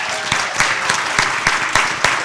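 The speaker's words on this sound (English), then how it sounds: "huge round of applause for this amazing group" Audience applause for a brand-experience panel, a sustained wash of clapping with a few sharper individual claps standing out, close and fairly loud, with no voices.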